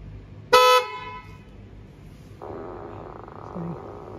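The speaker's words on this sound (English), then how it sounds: "this one triggered three actions: the honk, the fart, and the flashes" A short, loud Tesla car horn toot up close, followed by a low buzzing drone and faint background noise.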